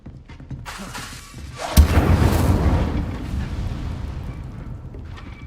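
An Incendio fire spell cast in the Hogwarts Legacy video game erupts with a sudden loud burst, then rolls into a sustained roaring, crackling rumble that slowly fades over several seconds.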